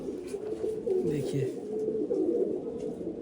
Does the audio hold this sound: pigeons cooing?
yes